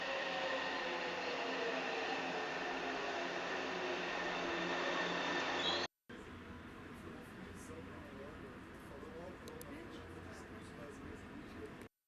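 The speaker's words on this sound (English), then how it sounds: "Traveling by metro." Steady rumble and hiss of a São Paulo metro train running, a continuous loud drone that cuts off and resumes with a slightly different tone, suggesting a change of carriage or segment, without clear talk over it.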